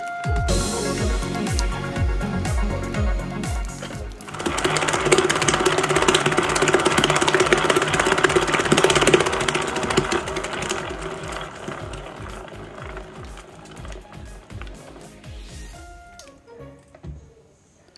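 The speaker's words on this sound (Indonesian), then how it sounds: "Jadi saya mixer dulu pertama-tama butter dan gula halusnya sampai sudah tercampur dengan rata" An electric mixer creams cold, firm butter with powdered sugar, its motor whirring in a continuous grinding drone with rattling beater texture. The mixer gets louder midway and then winds down and stops near the end.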